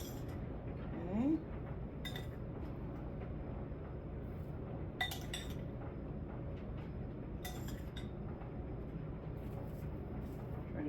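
Vegetables set around the edge of a roasting venison haunch in a pan bring a few sharp, isolated clinks of metal and crockery, spaced seconds apart over a low, steady room hum.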